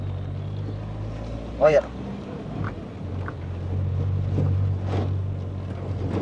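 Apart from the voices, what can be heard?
GTI 16-valve car engine running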